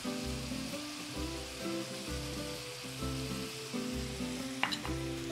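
Chopped onions and a little garlic fry in a pan with a continuous, even sizzle up close, carrying a faint rhythmic hum beneath and one brief clink near the end, with no talking.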